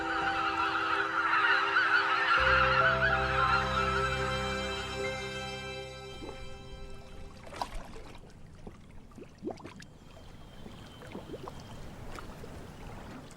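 Migratory geese honk over a river at sunset, a loud layered chorus of many calls at first that thins to scattered single honks and soft splashes, fading farther off.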